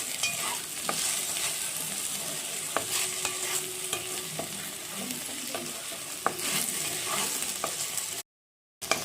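Okra (lady's finger) frying in a pan while being stirred, a steady sizzle with scattered scraping clicks of the spoon, close and continuous, briefly cut to silence near the end.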